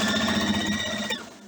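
A steady mechanical whirring hum of a sewing machine running continuously, fairly close, winding down near the end.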